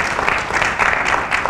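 An audience at a book signing for an applied economics book breaks into sustained applause, a dense and steady clapping that is fairly close and continues without pause through the whole moment.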